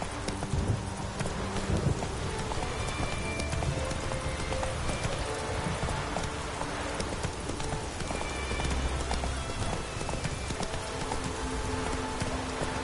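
Roach, a horse in The Witcher 3, gallops with steady, rapid clip-clop hoofbeats over a constant rain-like wash of game ambience, loud and continuous throughout.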